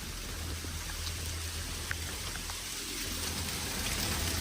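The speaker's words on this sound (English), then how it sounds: "Suffolk, New York was hit with strong winds, hail, and heavy rain." Steady, dense rain hisses down during a storm with strong winds and hail in Suffolk, New York, a constant wash with a few faint ticks of impacts and no voices.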